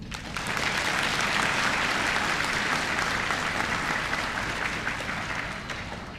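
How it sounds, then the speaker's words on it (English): A graduation ceremony crowd applauds the class of 2022, a swelling wave of dense clapping that rises quickly, holds strong and steady, then eases slightly toward the close, with no talk over it. "Let's give a round of applause for the class of 2022."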